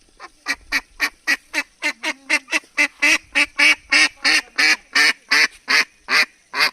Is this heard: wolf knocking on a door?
no